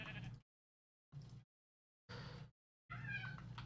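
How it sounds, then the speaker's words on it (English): A pet cat yowls loudly four times, each cry separated by a short silence. The last cry is the longest and most strained. "Oh, my cat's screaming again."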